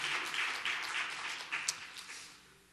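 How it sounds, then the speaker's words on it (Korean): Faint applause from a church congregation, a short patter of clapping in a large room that fades away toward the end. "박수 다시 한번 해주시기 바랍니다"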